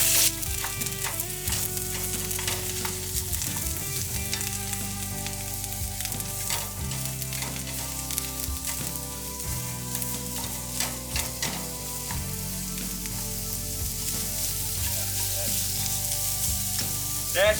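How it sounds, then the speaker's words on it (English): Wagyu beef browns in a hot pan with a continuous, dense sizzle and frying crackle, close and fairly loud, with occasional stirring and scraping throughout. "our Wagyu is browning"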